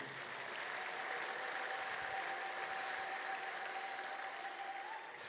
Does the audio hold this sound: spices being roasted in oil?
no